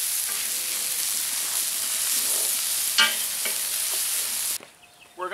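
Paella rice browns in a pan on a Weber kettle, giving a dense continuous sizzle with a few scraping stirs, ending suddenly in near quiet.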